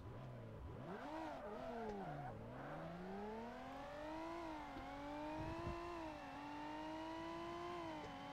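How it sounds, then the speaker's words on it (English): A race car engine in Forza Motorsport revs and climbs through the gears, its pitch swooping up and down continuously over several seconds at a fairly faint, steady level, with no talking. "I just can't stop crashing this car"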